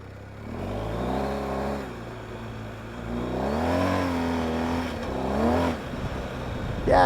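A motorcycle fitted with a Motoz Tractionator GPS tire, set up for mostly off-road riding, rolls along a dirt road, its engine droning steadily and rising and falling in pitch with throttle changes throughout.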